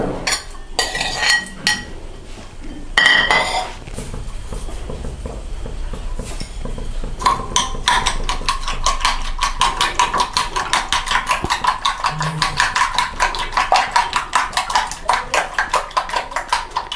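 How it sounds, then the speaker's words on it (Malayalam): Eggs being mixed in a bowl with onion, green chili and salt: after a few scattered knocks, a fast, regular run of close metal-on-bowl clinks continues steadily. "ഇനി നമുക്ക് സവാളയും പച്ചമുളകും കോഴിമുട്ടയിലേക്ക് ഇട്ട് ആവശ്യത്തിന് ഉപ്പും ചേർത്ത് നന്നായിട്ട് മിക്സ് ചെയ്യാം"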